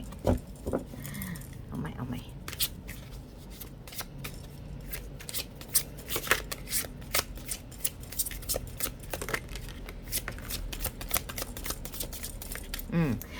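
A new Spellcasters tarot deck is shuffled and handled close up, producing a steady patter of crisp card flicks and riffles, with a voice speaking over it.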